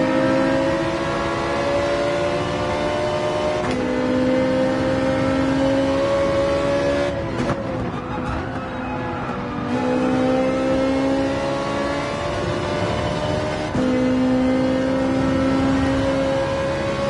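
Ferrari GT4 race car in Gran Turismo 7 at Maggiore, its engine droning and climbing through revs, with a brief dip and shift around the middle before winding back up in long sustained pulls.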